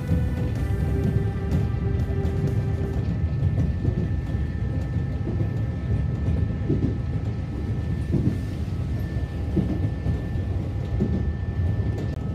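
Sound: Nankai Koya Line train running, passing Sayama station

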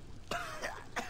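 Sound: character coughing in Gears of War 2 video game

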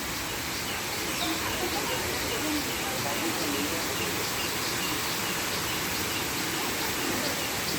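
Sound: waterfall at Wat Sala Loi temple

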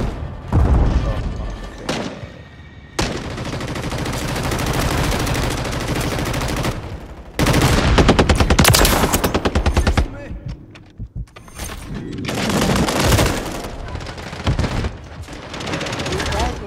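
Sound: gunfire in video game Call of Duty MW3

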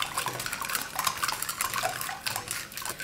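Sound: stirring brown sugar into warm water to dissolve it

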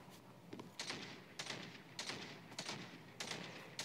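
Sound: gunshots in a battle royale video game (Omega Legends)

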